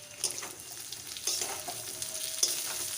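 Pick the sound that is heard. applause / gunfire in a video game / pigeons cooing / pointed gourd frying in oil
pointed gourd frying in oil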